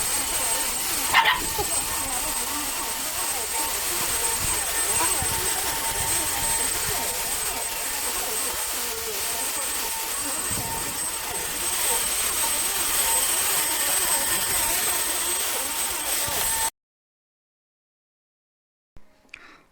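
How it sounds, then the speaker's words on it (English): A worn, beat-up Bissell Power Force Compact Turbo upright vacuum cleaner runs with a steady, loud broadband roar and a faint whine, continuous for about seventeen seconds before cutting off abruptly into silence. "now let's test this beat up old Bissell Power Force Compact"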